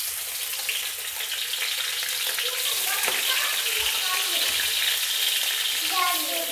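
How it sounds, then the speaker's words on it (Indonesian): Anchovies (ikan bilis) fry in a pan with a loud, continuous hiss and crackle that stays close and steady throughout, with faint stirring knocks and no talk. "ini kita goreng dulu"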